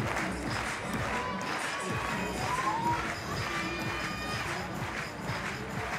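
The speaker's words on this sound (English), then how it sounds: "Jesse Pilz gets a big reaction from the German crowd." A German crowd cheers and roars for a climber at the Munich 2022 European Championships sport climbing event, sustained distant-sounding crowd noise with a commentator talking over it.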